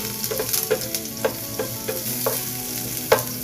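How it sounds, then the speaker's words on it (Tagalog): Garlic sautéing in rendered pork fat, a loud steady sizzle punctuated by irregular scraping knocks of a spoon against the pan, nearby and without voices. "Lumabas na yung mantika mga Koblox. Igigisa na tayo ng bawa."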